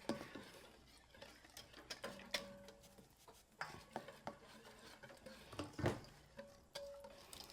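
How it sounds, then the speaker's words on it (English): Slow stirring of a pot of Louisiana-style red beans, a spoon scraping and knocking against the pot in irregular strokes, close and fairly quiet, with occasional clinks. "I like to stir it in like this slow."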